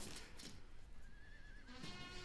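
A horse whinnies in the Field of Glory II: Legions Triumphant strategy game, one rising neigh followed by a short snort, set against a steady ambient game backdrop with no talking.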